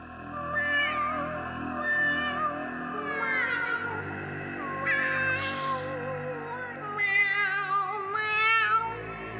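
Cats meow repeatedly in a puppet film scene, several rising and falling calls following one another up close over a steady low background, with no talk.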